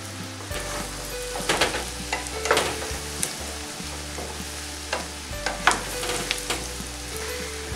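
Potatoes fry in butter with garlic and onion, giving a continuous crackling sizzle broken by repeated scraping and clacking as they are stirred in the pan, close and moderately loud.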